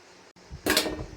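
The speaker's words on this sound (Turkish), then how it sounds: "Rendemin büyük yerinden rendeliyorum" Cucumbers being grated on the coarse side of a hand grater for a summer yogurt salad, a brief soft scrape followed by a louder, close rasping burst of shredding.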